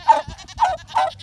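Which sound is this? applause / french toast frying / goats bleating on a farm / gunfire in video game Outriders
goats bleating on a farm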